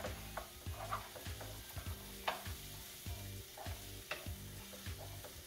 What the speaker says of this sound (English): I'm using extra virgin olive oil. Mix it around just a little bit.